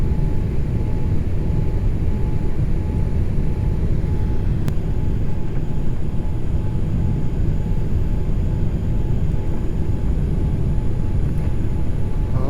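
Inside an airliner cabin on final approach over the runway, a loud, steady broadband roar of engines and airflow holds constant throughout, with a faint tonal whine above it and one sharp tick.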